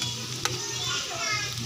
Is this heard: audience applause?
no